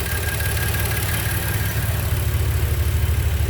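A 2016 Maserati Ghibli S engine idling with a known ticking noise, a steady close rumble with a fine rapid ticking pattern running through it, no voices.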